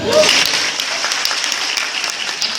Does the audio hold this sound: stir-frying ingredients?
no